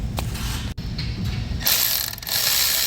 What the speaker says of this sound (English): another hand using the air ratchet, tightly, gently clamp